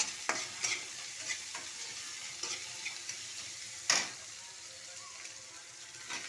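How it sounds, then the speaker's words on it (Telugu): Peanuts and chana dal frying in oil for mango upma, a steady soft sizzle with intermittent scraping stirs and one sharper clatter, close and alone without talk. "ఎండుమిర్చి, అల్లం, కరివేపాకు ఇలా బాగా వేగనివ్వండి."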